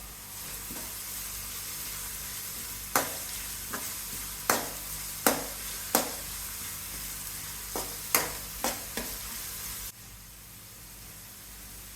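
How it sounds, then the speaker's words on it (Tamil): Ginger garlic paste sautés in a pan for spicy prawn thokku, a steady hissing sizzle punctuated by about eight sharp spatula strikes against the pan, close by; the sizzle drops quieter near the end. "இப்போ நல்லா ஒரு டைம் வதக்கியாச்சு."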